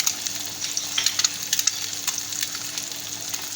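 An egg frying in a pan for a half-fry breakfast egg, giving a steady close sizzle with small crackling pops throughout, with no talking.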